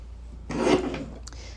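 A paper strip for scrapbook pages is trimmed with one short, dry rasping slide of the cutter, close and fairly soft, in an otherwise quiet moment.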